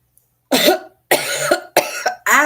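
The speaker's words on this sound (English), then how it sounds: "I was coughing and cut my tongue on my tooth." A person coughs four times in quick harsh bursts, close and loud, with short pauses between.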